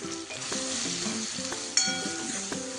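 Homemade chutney spice mix with coriander powder, red chili powder and turmeric sizzles in hot oil in a pan for varan batti, with a steady close frying hiss and repeated scraping stirs throughout.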